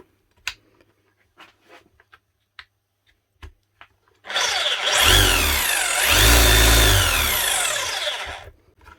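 A Makita HR3210FCT hammer drill, bought broken as spares and repaired, runs in rotary-only mode after a few light knocks. The motor is loud and close, winding up and holding a whining, rising and falling spin for about four seconds before it cuts off.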